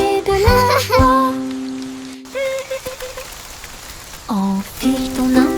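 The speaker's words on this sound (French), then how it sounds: "Nous rions tandis que les gouttes de pluie tombent." Steady rain patters on a surface throughout, heard beneath a sung children's nursery melody with music that drops out briefly midway.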